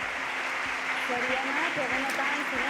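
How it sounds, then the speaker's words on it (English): Audience applause at the closing gala and awards ceremony of a festival's 73rd edition, honoring the departing jury. The clapping is a steady, dense wash throughout, with a voice speaking faintly over it. "a big round of applause for them"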